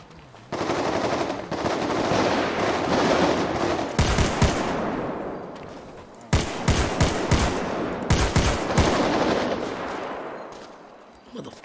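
Gunfire in a Call of Duty video game: long rapid machine-gun bursts and sharp single shots, loud and close, sustained across the clip with short gaps between volleys.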